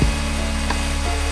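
An electric spice grinder whirls garam masala at full speed, giving a loud, steady motor whir with a constant buzzing drone, close up and uninterrupted, without any voices.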